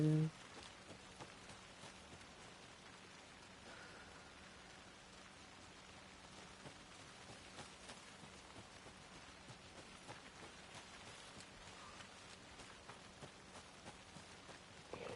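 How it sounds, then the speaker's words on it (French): Steady rain patters down in the game Alan Wake 2, a soft continuous hiss with scattered drop ticks, faint and even throughout, after a brief louder sound at the very start. "Il pleut tout le temps, hein."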